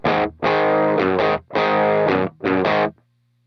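Distorted electric guitar chords on a humbucker pickup ring out in bursts, thick and loud, with short gaps between strums before fading to a low amp hum.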